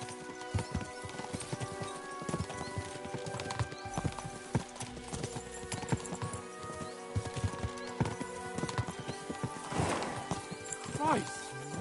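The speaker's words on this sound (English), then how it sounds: "We should spur the horses on." Horse hooves clip-clop steadily in a trot with an occasional whinny in the video game Kingdom Come: Deliverance II, set against a busy, layered background of other activity.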